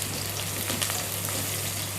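Crushed garlic and turmeric tempering frying in hot oil for a banana stem curry, a steady close sizzle with soft crackles throughout, no talking.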